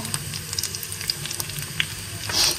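Ground cumin and turmeric hit hot oil with fried ginger and green chili, a close, bubbling sizzle with scattered pops and stirring scrapes, swelling briefly louder near the end.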